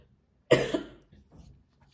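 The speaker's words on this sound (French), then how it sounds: "et encore excusez-moi pour la toux" A single sharp cough bursts out close to the microphone and fades quickly, followed by a softer throat sound in an otherwise quiet room.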